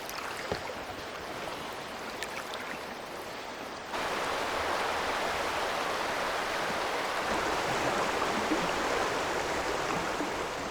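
River rapids rushing loudly around a canoe, a steady broadband roar of white water that swells and thickens partway through and then stays constant, with no talk over it.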